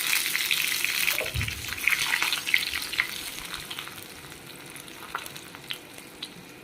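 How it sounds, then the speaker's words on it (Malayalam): Mustard seeds spluttering and popping in hot oil with chillies, a steady close sizzle with scattered sharp crackles throughout, no voices. "എണ്ണ ഒഴിച്ച് കൊടുക്കാം, കടുക് ഇട്ട് കൊടുക്കാം. കടുക് പൊട്ടി വന്നതിന് ശേഷം മുളക് ഇട്ട് കൊടുക്കാം."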